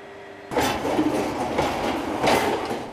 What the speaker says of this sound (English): the train of ISO-Veyors is indexed into position for filling until the 648-ton total load is ready for departure